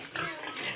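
A pig grunts near its pen on a farm, one short close grunt with a quick rasping rise.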